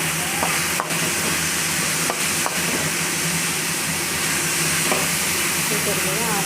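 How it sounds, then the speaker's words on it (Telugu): Green chillies and dal fry in a pan, a constant loud sizzle under scattered scrapes and knocks of a spoon stirring, close up and without speech. "మంచిగా ఫ్రై చేసుకోవాలి"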